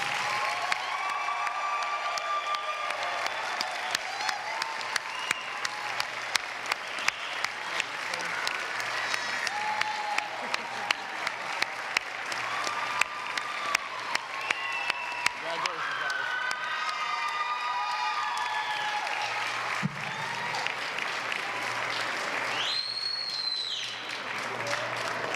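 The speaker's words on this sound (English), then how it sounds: "Now let's have one more round of applause for the graduates" Sustained applause from family and friends at an allied health graduates' pinning ceremony, steady dense clapping throughout with scattered crowd voices and brief whoops mixed in.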